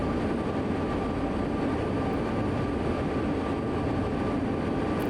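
A heavy freight locomotive pulling an intermodal train over Sherman Hill in Train Sim World 2, a continuous loud engine rumble and drone that holds steady throughout, with no talking.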